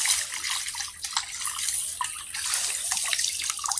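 Water splashes and sloshes steadily as fish and crabs are rinsed by hand outdoors, a close, continuous bright spatter with irregular bursts and no talking.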